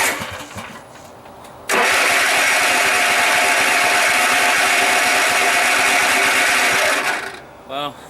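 Cub Cadet RZT zero-turn mower engine starting, a brief quiet lead-in, then the engine catches and runs loud and steady for several seconds before cutting out, with a short sputter after.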